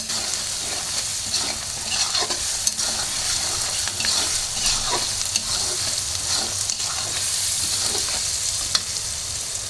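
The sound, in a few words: potatoes frying in a pan with spices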